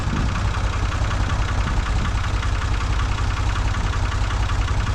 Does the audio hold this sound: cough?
no